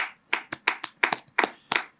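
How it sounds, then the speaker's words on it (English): Several people clap in a podcast studio for a guest, a small, close group producing about nine sharp, slightly uneven claps over two seconds. "Please, a round of applause for her."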